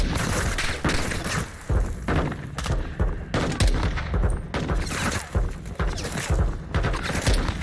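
Heavy gunfire in Modern Warfare II: dense, continuous bursts of automatic fire mixed with booming impacts and thuds. The firing is loud and sustained, and a faint voice sits in the mix.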